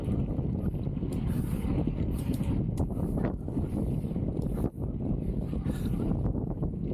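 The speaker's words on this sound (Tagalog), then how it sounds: "Sobrang hangin." Strong wind buffets the microphone during an evening bike ride in a steady, roaring rush with low rumbling gusts, loud and continuous throughout, with no voices.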